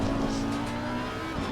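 A mid-engine Audi race car in a racing video game at Zandvoort drones along with a steady, loud engine tone, close and continuous with no talk.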